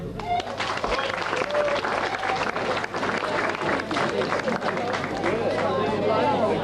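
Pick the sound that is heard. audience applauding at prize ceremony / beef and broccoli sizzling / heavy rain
audience applauding at prize ceremony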